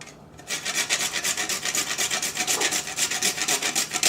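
Whole nutmeg grated by hand for a stuffed-shells dish, a steady rhythmic rasping of quick back-and-forth strokes, close and alone after a brief quiet start.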